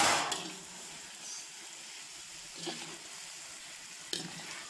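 Potatoes frying in a pan for a Spanish tomato fry with pork, giving a steady close sizzle with a brief stir or clatter at the start and soft utensil knocks later.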